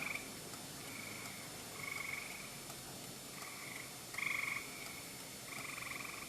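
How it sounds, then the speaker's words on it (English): Gray tree frogs calling at night, repeated short trilling bursts from several frogs, some overlapping, fairly faint against a quiet background hiss. "there are gray tree frogs just singing like crazy."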